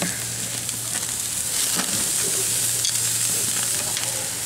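Tri tip steaks sizzle steadily on a grill, a constant loud frying hiss with a low hum underneath and a few faint clicks, no voices.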